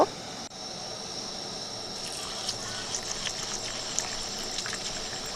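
Red lentils are rinsed with water, giving a steady trickling and sloshing wash with a few small splashes, close and moderately loud, no speech.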